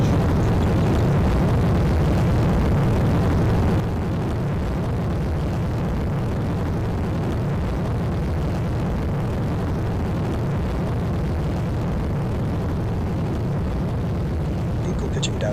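Rocket engines thunder at liftoff as a dense, continuous roar that holds strong throughout and eases only slightly after the first few seconds.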